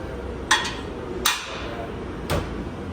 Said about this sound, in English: And these pieces right there, he's driving them in. Fit these cam bearings perfectly.